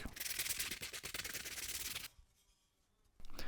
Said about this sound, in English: Then all that remained was some light sanding.